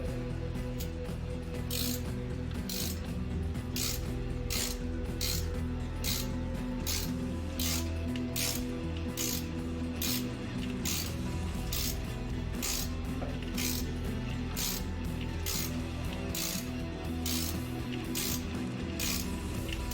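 Ratchet cranking during a cam swap on a Magnum Hemi engine, a regular series of sharp clicking bursts repeating about every second, close and steady with no talk.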